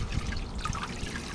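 Small backyard pond waterfall trickling over rocks, a steady, soft wash of running water, fairly quiet and continuous with no voices.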